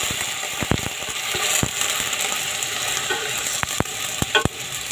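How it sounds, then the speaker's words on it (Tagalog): Breadfruit (kamansi) is sautéed in a pan for a chicken and vegetable dish, a steady sizzle broken by several sharp scraping clicks of a utensil against the pan, loud and close with no talking. "Igisa ko lang po mga kamansi"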